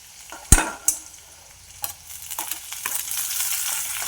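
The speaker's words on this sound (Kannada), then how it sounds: "ಬೆಳ್ಳುಳ್ಳಿ ಫ್ರೈ ಆಗುವಾಗ ಕಾಯಿಮೆಣಸು" Garlic fries in a hot pan. A few sharp utensil clatters come first, then the sizzle builds into a louder, continuous frying hiss.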